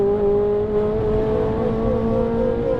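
A Porsche 997 pulls hard on a Sunday morning drive, its engine note droning steadily and rising slightly as the car accelerates, heard loud and close from inside the cabin with no talking.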